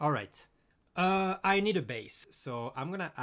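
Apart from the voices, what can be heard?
No everyday noises stand out.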